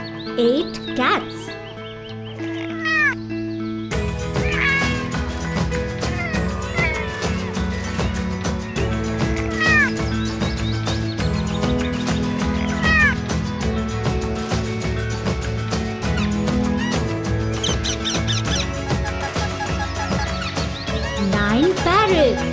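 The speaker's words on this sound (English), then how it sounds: "8 cats." Cats meow repeatedly over a steady, busy musical backing with singing, the meows rising and falling in short bursts after a quieter opening.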